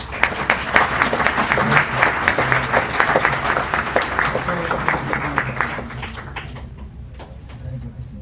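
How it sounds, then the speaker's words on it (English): Sustained clapping fills a board of education meeting room, a dense steady round of applause from the audience that tapers off over the last couple of seconds. "let's give them a round of applause, please."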